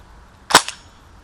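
Single sharp pop of an airsoft gun fitted with a CO2 HPA conversion kit, close and loud, with a faint second click just after.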